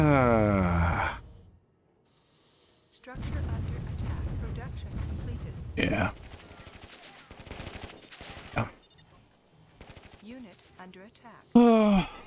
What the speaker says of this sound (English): Just watch all the missiles fly.